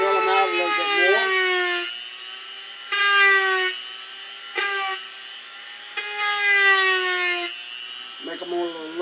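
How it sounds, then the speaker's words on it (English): A small rotary drill whines in several short bursts as it bores out holes in a resin mask, each burst rising in pitch, with pauses of near quiet between them. "So I drill them out a little bit more."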